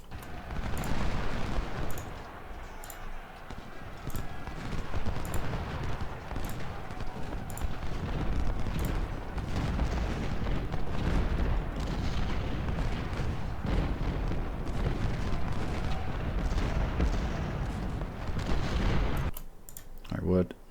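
Cannon artillery fire from the Ultimate General Civil War game lands as repeated sharp booms at irregular intervals over a continuous battle rumble. A brief quieter stretch comes at the very end.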